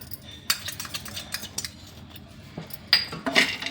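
Peanuts being tossed with spicy seasoning in a bowl give a run of clinks and scraping rattles, with sharper strikes near the start and again toward the end, close by and moderately loud.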